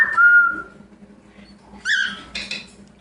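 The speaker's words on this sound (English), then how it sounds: "She's a very sweet whistler. Come on, give us a whistle, Svina." A pet bird whistles a clear, sustained note, then a pause and a couple of shorter, brighter chirpy whistles close by.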